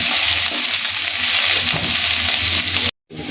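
Onion, garlic and dried chili fry in oil for a Malabar spinach dish, a loud, steady close sizzle that cuts off abruptly near the end, then returns faintly.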